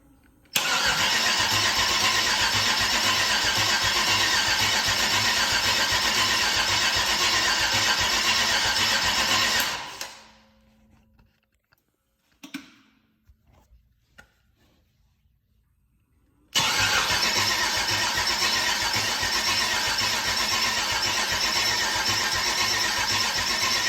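A 6.0 LS V8 engine cranks loudly and steadily for about ten seconds without catching. After a quiet pause with a few small clicks, a second long, loud, unbroken cranking run follows.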